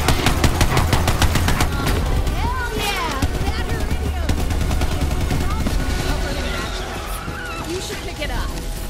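Rapid gunfire bursts from Borderlands 3 combat mix with skidding and vehicle noise, a loud, dense and continuous barrage with scattered shots throughout.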